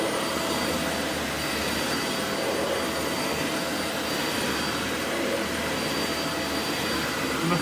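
A Dyson Light Ball Animal vacuum cleaner runs indoors in a house. It gives a loud, steady, close-up roar with a high whine that holds level and continuous from start to finish.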